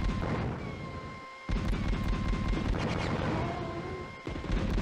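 Explosions and heavy gunfire from a video game battle rumble loudly and continuously, with a blast-like surge in the middle and brief drops between bursts.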